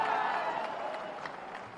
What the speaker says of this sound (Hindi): अब तो बजाओ जोरदार